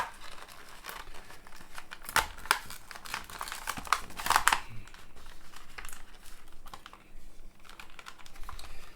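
Bo-Katan Kryze Star Wars action figure being freed from its plastic blister card, with sharp crinkling, tearing and snapping bursts of packaging plastic, close and fairly loud, without talk.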